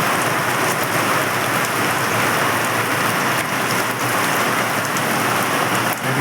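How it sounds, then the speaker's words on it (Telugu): Dense, steady rain drumming loudly on metal roof sheets, a continuous close patter with no pauses and no voices. "రేకుల మీద పడిన వర్షం శబ్దం వినిపిస్తుంది కదా"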